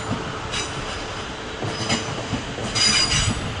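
Train 45110 passing Clapham Junction on a run from Portsmouth Harbour to London Waterloo: a steady, close rolling rumble with rhythmic wheel clatter and squeal that swells louder toward the end. No speech.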